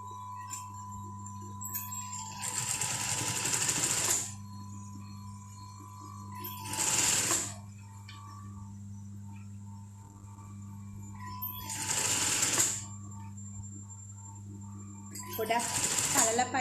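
A sewing machine runs an outline stitch along the folded edge of a dress in four short bursts, separated by pauses, over a steady low electrical hum.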